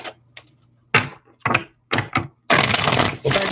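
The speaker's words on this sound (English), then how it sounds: "One more shuffle." A deck of tarot cards is shuffled by hand in a few short papery bursts, then a longer, louder riffling run near the end, close and dry with no talking.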